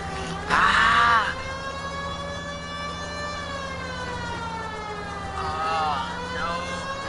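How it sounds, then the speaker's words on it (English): A police car siren in the L.A. Noire video game wails continuously with a steady rising and falling tone, under an engine drone, with brief bursts of louder noise near the start and end. "Riding up the street in my tow police car."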